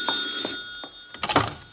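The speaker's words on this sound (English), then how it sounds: "Spend the whole night trying to fall asleep, and then the phone has to ring." A telephone rings at night in a quiet house, a series of faint trilling rings with a louder burst near the end, no talking.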